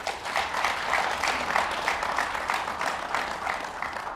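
Audience applause at a panel discussion, a moderately loud round of many hands clapping with slight surges and dips. It continues evenly for several seconds with no voices over it.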